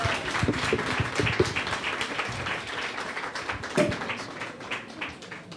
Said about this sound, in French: sous vos applaudissements, accueillons ensemble Monsieur le Président de la région Bruxelles-Capitale, Rudy Vervoort.